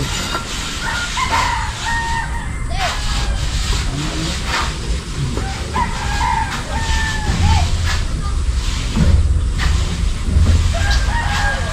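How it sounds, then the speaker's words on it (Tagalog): Roosters crow several times amid outdoor bustle, some calls nearby and others farther off, over a low rumble of passing traffic. "Parang masakit yung manok ni Tulo"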